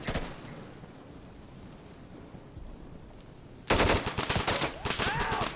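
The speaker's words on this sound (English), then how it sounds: "I shot my own guy." Gunfire in the shooter game Insurgency: faint distant shots at first, then a loud sustained burst of rapid automatic fire near the end.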